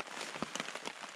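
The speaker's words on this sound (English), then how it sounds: "Bit of rain coming in as what was expected." Light rain patters steadily on a cool morning during a deer hunt, a soft, even hiss with a few slightly louder drops, faint and without voices.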